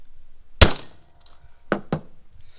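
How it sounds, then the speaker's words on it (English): A hammer strikes the front drive shaft yoke of a 1999 Dodge Ram 2500 Cummins during double cardan U-joint replacement: one sharp, loud metallic whack followed by two lighter knocks in quick succession, close and alone against quiet. "take your hammer and get for your yoke here a good whack"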